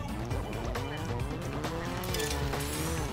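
Toy cars racing in the Toybox Turbos video game, with a Super Mini's engine note and squealing tires sliding through turns, a continuous, close game mix of whining engine and tire squeal.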